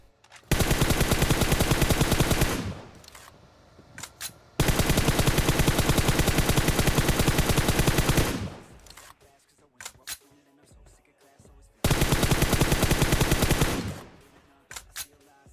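Rapid automatic gunfire in the mobile battle royale game Free Fire, three long sustained bursts of several seconds each separated by quieter gaps with faint scattered shots, loud and close.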